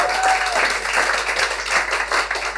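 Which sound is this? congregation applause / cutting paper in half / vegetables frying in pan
congregation applause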